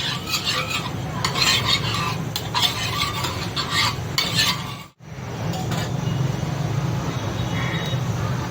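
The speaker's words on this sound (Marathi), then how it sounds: "तवा गरम करते थोडंसं तूप टाकते" Ghee is spread over a hot tawa, producing continuous scraping and gentle sizzling with small metallic clinks, broken by a brief silent gap before the sizzle resumes.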